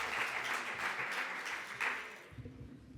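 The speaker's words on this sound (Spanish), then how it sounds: "Pues un gran aplauso" A faint, muffled burst of audience applause at a Spanish feminist congress, swelling in waves before fading out into quiet room noise.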